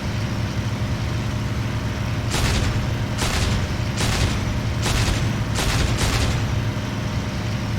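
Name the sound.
Spitfire guns firing in the IL-2 video game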